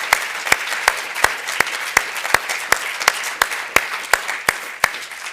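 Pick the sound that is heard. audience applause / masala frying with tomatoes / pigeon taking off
audience applause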